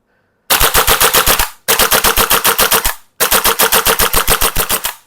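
A WE gas blowback AK-74 airsoft rifle with a steel body fires three long, loud full-auto bursts of rapid, evenly spaced shots, heard up close with brief pauses between bursts.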